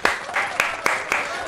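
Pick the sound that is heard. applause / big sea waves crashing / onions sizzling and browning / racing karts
applause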